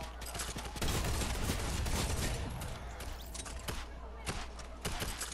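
A Fortnite minigun fires a dense, continuous stream of rapid shots that stays loud throughout, with brief dips and stray clicks over faint background noise.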